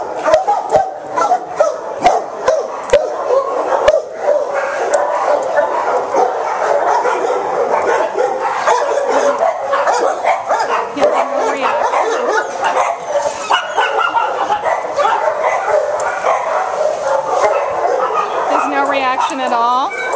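Many dogs barking, yipping and whimpering in animal shelter kennels, a dense continuous chorus of overlapping barks echoing close by, with occasional voices underneath.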